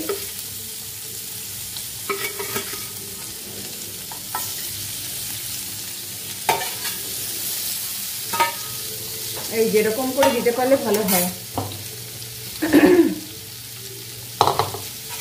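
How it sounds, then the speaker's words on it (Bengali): Paneer pieces frying in oil, a steady sizzle under occasional speech, with stirring and light clinks of a utensil against the pan. "প্রত্যেকটা পনির ভাজা হতে হবে।"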